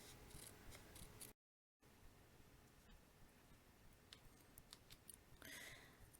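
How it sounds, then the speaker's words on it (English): Paper snips cutting out a piece of card stock, giving quiet, soft snipping and rubbing sounds close by, with a brief silent gap near the start and a few faint ticks. "I'm just using my paper snips to cut it."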